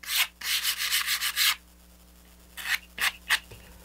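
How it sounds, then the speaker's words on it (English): Close sanding of the outside edge of a small model rocket part for the Draco BG kit: a burst of rapid rubbing strokes, a pause, then a few separate strokes. "I want to just sand this outside edge,"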